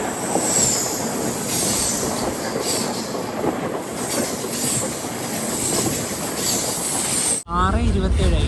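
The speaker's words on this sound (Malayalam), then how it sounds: "ട്രെയിൻ ഇപ്പോൾ വർക്കല ശിവഗിരി റെയിൽവേ സ്റ്റേഷനിലെത്തി." Amrit Bharat Express sleeper train rolling on rails in Kerala, a steady loud rumble with wheel squeal and clatter throughout, then a sudden shift to a brighter, hollow roar near the end as the carriage passes onto a bridge or different track.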